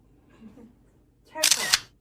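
A voice imitates rapid camera shutter clicks in a short burst near the end, after a quiet stretch with faint murmuring.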